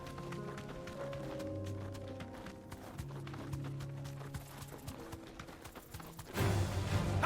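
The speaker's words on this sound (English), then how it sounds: "A horse, apparently." Hoofbeats of a horse clip-clopping in Final Fantasy 16 over the game's ambient backdrop, steady and moderately quiet, ending in a louder burst of noise.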